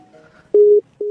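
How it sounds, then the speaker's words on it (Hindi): A phone sounds two short electronic tone bursts, one long and one beginning just as the clip ends, clear and close over quiet room noise. "वो एक फोन बज रहा है तो एक बार उठा"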